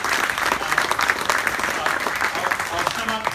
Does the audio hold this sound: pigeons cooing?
no